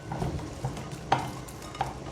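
Beef shank hisses in a dry pan with plenty of onions and no oil, a gentle close sizzle punctuated by a couple of sharp utensil clinks against the pan.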